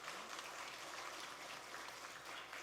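Church congregation applauding the choir during a Sunday service, a steady, even wash of many hands clapping together, faint and distant throughout.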